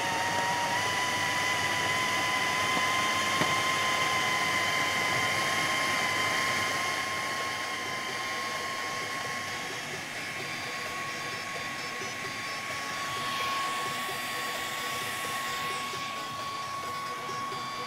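A food processor minces a cut vegetable core for a mock kunafa recipe, running as a steady, loud motor whir with a high whine that holds for the full stretch and softens slightly partway through.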